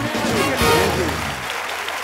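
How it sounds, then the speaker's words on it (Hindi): A studio audience claps in a burst of applause at a comedy talk show, with a presenter's voice speaking over the clapping throughout. "आप सबकी जोरदार तालियों के बीच में इनवाइट करना चाहूंगा स्टार मियां बीवी mister Vishal Bhardwaj and Mrs Rekha Bhardwaj."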